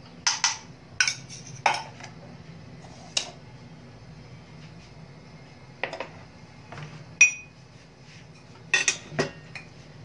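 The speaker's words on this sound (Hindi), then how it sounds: "अब मैं अपना ये गैस ऑन कर देती हूँ और इसमें मैं डालूंगी हमारी 2 चम्मच घी" A spoon clinks and scrapes against a pan on a gas stove while ghee is added, producing scattered sharp metallic taps and clatters separated by quiet pauses, close and moderately loud with no talking.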